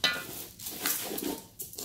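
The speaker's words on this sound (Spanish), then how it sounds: "Estamos sofriendo la carne" Beef steak searing in a pan for bistec de res, a steady sizzle broken by the scrape and clink of a utensil stirring against the metal, close and moderately loud.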